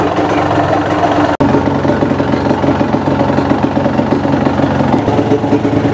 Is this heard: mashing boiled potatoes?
no